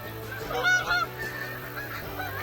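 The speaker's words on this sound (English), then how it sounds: "geese overhead" Geese honking overhead above an outdoor sweet potato harvest, several calls in a short cluster that carry clearly over steady background noise.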